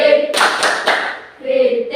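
A primary school class performs a rhythmic Pancasila student clap, a burst of quick hand claps in unison lasting about a second, set between short spoken and chanted lines from the group.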